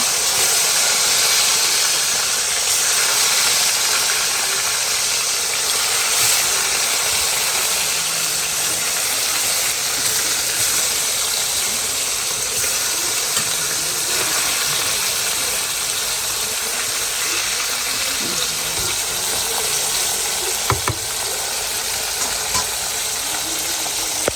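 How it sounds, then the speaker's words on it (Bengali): Steady broadband hiss of chicken pieces frying in a pan, continuous and fairly loud throughout, with a few faint clinks near the end. "এটা মাংসটা ভেজে নিচ্ছি"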